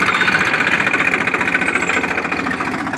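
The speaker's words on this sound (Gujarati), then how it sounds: "જાય છે ટ્રેક્ટર ધીરે ધીરે હાલે ખાતર ને મકાઈ ને બધું ભેગું" Tractor engine running steadily as it slowly drives across a village field sowing maize together with fertilizer, a continuous mid-pitched rumble with a throbbing rhythm heard close by, no voices.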